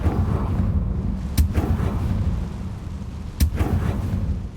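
A Confringo blast spell in Hogwarts Legacy fires twice as two sharp, loud bursts a couple of seconds apart, over a dense low rumble of game ambience.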